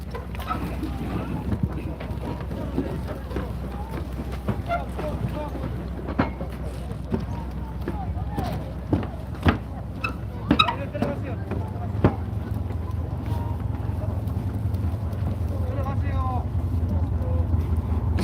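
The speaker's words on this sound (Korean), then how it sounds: "이곳 이제 난지 1호를 타고 지금 만기도를 출발해서 이제 연명항으로 가는 거예요" A ferry, Nanji No. 1, pulls away from Manjido island near Tongyeong toward Yeonmyeong port. A low engine drone and wind buffeting run beneath someone talking, with occasional clicks and knocks.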